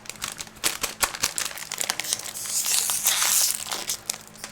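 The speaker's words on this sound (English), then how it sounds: "Got myself a pack of Nutter Butters. I'm gonna eat it. So if you hear crinkling, that's why." Close, crisp crinkling and rustling of a Nutter Butters snack packet being handled, irregular plastic crackles that build into a denser rustle before easing off, with no talk.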